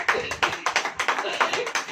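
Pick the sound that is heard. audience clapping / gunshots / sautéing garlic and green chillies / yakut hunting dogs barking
audience clapping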